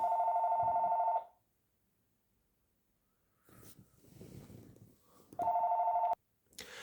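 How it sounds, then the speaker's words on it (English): A telephone rings in two loud, steady electronic bursts, a second-long trill, a pause filled with faint rustling and movement, then another ring cut short; no one speaks. "phone ringing"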